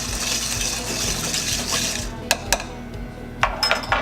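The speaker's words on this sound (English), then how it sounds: "Stir it up a little bit." A cocktail stirred with ice in a glass at a lounge bar: a sustained rattling swirl of ice for about two seconds, then a few sharp clinks of cubes against the glass, close up.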